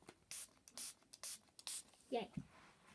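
A spray can hisses in several short, sharp bursts in quick succession, close and faint, followed by a brief soft rustle and a voice.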